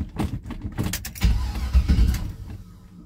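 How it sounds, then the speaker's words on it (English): Keys rattle before a Chevy Squarebody truck that has sat unstarted for a long time cranks over and catches, settling into a low, rough engine rumble that fades toward the end. "Let's start this truck and see how quick it starts."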